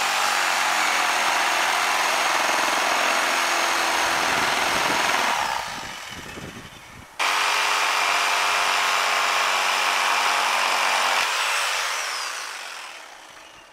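Electric jigsaw running after its blade was changed, a loud steady buzzing whine that winds down, cuts out briefly, then starts again and fades near the end.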